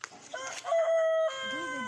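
Chickens cluck near a building site while a rooster lets out a long, clear crow, all close by with steady farmyard background and no talking.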